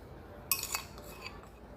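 A very small bowl and a strainer knock together while rice water and oil are transferred, a sharp close clink followed by a few fainter light taps in a quiet room.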